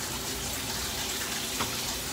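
Water runs steadily for a shower or bath, a continuous close rushing hiss with even loudness throughout and no talking.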